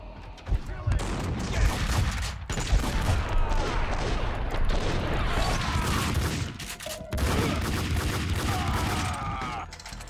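Gunfire in the Max Payne 2 video game, loud continuous volleys of shots and crashing impacts close by, with a brief lull partway through before the barrage resumes.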